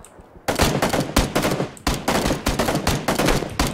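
Dense automatic gunfire from the Battlegrounds video game, loud rapid bursts of rifle shots cracking one after another after a brief quiet start, continuing steadily with short pauses between volleys.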